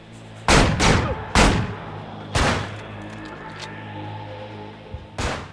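Gunshots from an enemy in the video game Manhunt, several loud sharp bangs with booming tails, spaced irregularly across a few seconds over a low ambient hum.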